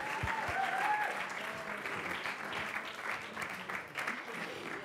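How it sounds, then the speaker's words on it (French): A Brussels Startup Week audience gives a woman a sustained round of applause, a dense, even roar of many hands that is moderately faint, with a few brief tones and voices underneath. "un tonnerre d'applaudissements pour elle."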